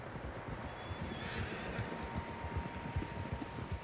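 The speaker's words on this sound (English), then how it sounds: "Horses, quite a few of them." Horses in Red Dead Redemption II whinny faintly over a steady bed of hoofbeats and outdoor ambience, several animals moving together at a distance.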